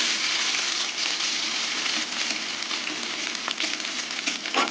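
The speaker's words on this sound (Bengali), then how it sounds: "তেল গরম হয়ে গেছে এবার শুকনো লঙ্কা দিয়ে দেবো এবার সেদ্ধ করা রসুন দিয়ে দেবো" Dried red chilies and boiled garlic fry in hot oil, giving a steady, close, loud sizzle and crackle for the whole stretch with no talking.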